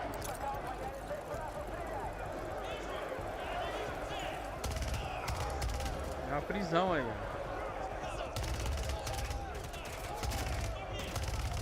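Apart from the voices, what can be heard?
gunfire in video game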